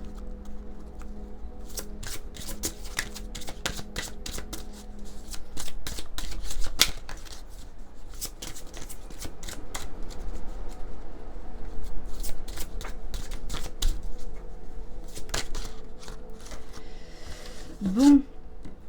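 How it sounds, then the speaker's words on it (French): Oracle cards are shuffled by hand, a long run of crisp, irregular riffling clicks and snaps close up, while someone talks at a low level in the background. "on va prendre quelques cartes de l'oracle de Marie-Madeleine"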